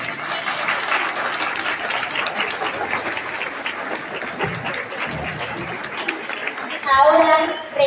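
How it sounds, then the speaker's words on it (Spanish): An outdoor crowd at a Day of the Dead celebration among cempasúchil flower fields claps loudly and continuously for several seconds, with bird chirps and a swell of cheering near the end. "Démosles un fuerte aplauso"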